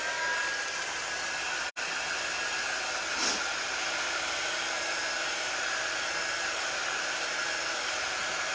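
A steady, loud blowing whoosh from a dryer drying a crafted journal cover, constant and uninterrupted apart from a brief dropout, with no talk.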